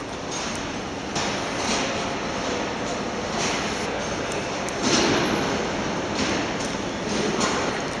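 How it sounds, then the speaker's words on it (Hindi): Busy platform ambience at Old Delhi railway station, platform 5: a steady loud wash of crowd murmur and rumbling trains, with a few brief louder swells and distant voices mixed through. "ये है पुरानी दिल्ली का रेलवे स्टेशन और हमारा प्लेटफॉर्म नंबर 5 है"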